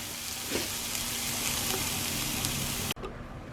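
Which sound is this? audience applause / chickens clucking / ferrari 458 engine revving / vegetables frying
vegetables frying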